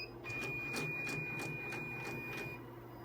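A Redline embroidery machine shifting its sewing head across the needles, a steady motorized whir with a sustained high whine and a regular pulsing mechanical beat, heard alone.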